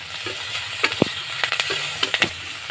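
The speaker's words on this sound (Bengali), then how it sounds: "চিংড়ি মাছগুলো আমি হালকা ভেজে নেব" Shrimp frying in a pan with turmeric and green chilies, a steady sizzle punctuated by several sharp scrapes and taps of a spatula stirring; no speech.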